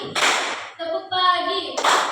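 A class plays the tepuk pagi clapping game in an Indonesian classroom: two short bursts of group hand claps frame a brief chanted word from many voices, close and loud.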